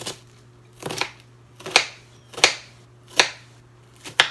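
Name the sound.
chopping onion for a skillet breakfast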